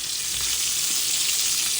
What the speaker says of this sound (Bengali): ওই পাশের চুলাতে বেগুন ভেজে নিচ্ছে